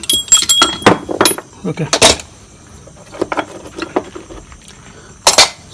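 Metal gearbox parts from a Yamaha RXZ two-stroke motorcycle engine clink and jangle on a workbench during disassembly, loud close bright clatters in bursts, with someone speaking briefly at the start.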